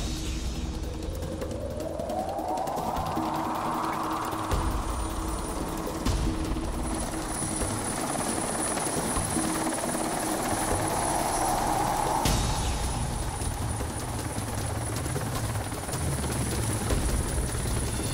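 A military helicopter flies overhead with a steady thumping rotor drone and a whine that rises then eases, sustained and fairly close throughout.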